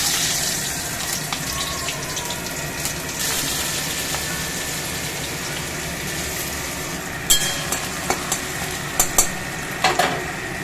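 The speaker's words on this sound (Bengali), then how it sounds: "এখন কুমড়ো রান্না করব কড়াইয়ের তেল গরম হয়ে গেছে" Pumpkin fries in hot oil in a wok with a steady sizzle and stirring, followed by a few sharp clanks and scrapes near the end.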